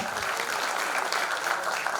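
An audience at a school reunion celebration applauds a teacher with dense, steady clapping that fills the room evenly throughout.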